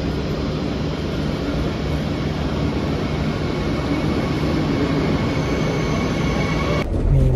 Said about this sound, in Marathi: सो मी ट्रेन पकडली ना हॅनोवरची आरी